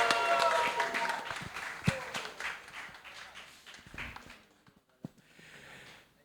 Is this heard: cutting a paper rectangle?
no